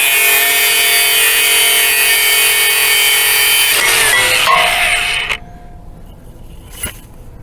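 Steady, continuous sawing cuts through a long steel bolt while an old Case three-bottom plow is restored, loud and close for about five seconds before cutting off abruptly, followed by quiet with one faint knock.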